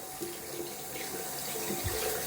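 Water running steadily from a tap while more water is worked into shaving soap lather, a continuous close splashing flow for a couple of seconds with no talk.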